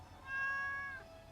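A single cat meow from the Stardew Valley farm game, a short rising-and-falling call lasting under a second, clear and alone over a quiet background.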